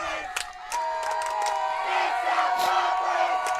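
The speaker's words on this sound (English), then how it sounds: "with all that cheering in the background" A crowd cheers and shouts at a collegiate archery national championship, a lively swell of voices and whoops carrying from nearby in the background for a few seconds.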